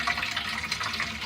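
Water in a sink clogged with hair draining slowly, a steady close trickling and gurgling wash with no talk.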